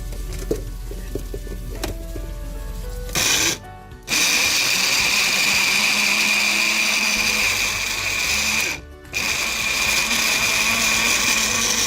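A blender purees tomato for a coconut cashew korma sauce, running loud and steady for about ten seconds with two brief pauses between pulses, with no talking.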